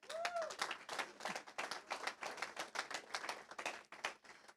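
An audience at a school board meeting claps for high school students, a dense, lively patter of many hands that keeps a steady level from start to finish.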